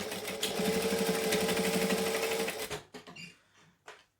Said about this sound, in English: I'm just going to baste that down, which is just top stitching right near the edge